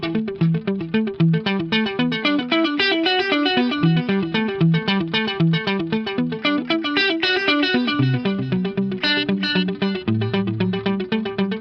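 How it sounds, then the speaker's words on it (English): Guitar played through a Boss SDE-3 dual delay with a slight offset spreading the repeats wide in stereo, giving a steady run of picked notes with echoing repeats trailing each one, driven slightly distorted tone, loud and continuous with no voices. "what I can do with the SDE-3 is add the slightest amount of offset, and I can make that delay that's currently just a mono delay sound super wide"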